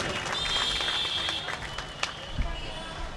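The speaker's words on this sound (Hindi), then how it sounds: "पुरजोर तालियों से आप इस्तकबाल कर दें कपिल चौबे जी का।" An audience at a mushaira poetry gathering applauds to welcome a poet, a moderate wash of clapping with a faint tonal hum and a few sharper knocks.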